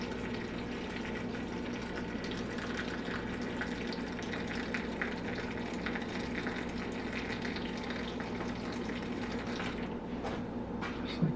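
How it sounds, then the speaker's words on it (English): Water pours steadily into a blender, a continuous close splashing rush that ends abruptly near the end. "I'm just going to put 16 ounces of water in here"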